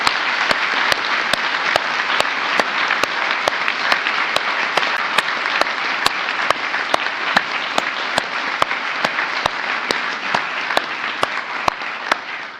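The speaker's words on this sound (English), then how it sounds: "let us give her a heartfelt round of applause" Sustained steady applause from a ceremony audience at an international award event honouring courageous women, filling the room evenly and continuously with no speech over it.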